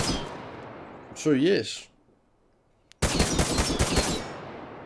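Rapid automatic gunfire from a rare gun in the survival game Miscreated bursts in loud and close after a short spoken phrase and a brief near-silent pause.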